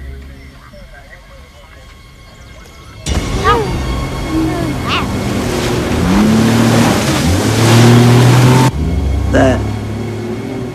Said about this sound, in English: That's some kind of engine noise.